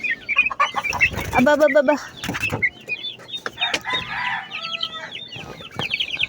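Farm chickens clucking and a rooster crowing nearby, busy overlapping calls with bursts of louder squawks, while a person speaks briefly.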